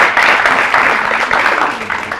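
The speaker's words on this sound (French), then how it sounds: "Et la région Assadjoun, la région d'Ali Sabiha, qu'on applaudit très très fort." Applause for competing school regions, including Ali Sabieh, at a youth quiz championship, with Ali Sabieh facing Arta; steady broadband clapping from an audience holds for the full stretch at fairly even loudness.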